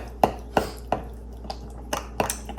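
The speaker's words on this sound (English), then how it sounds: "I'm just going to give this a mix." A spoon stirs a mix in a bowl for a raw vegan recipe, giving about six sharp clinks against the bowl at an uneven, unhurried pace, close and fairly clear with no talk.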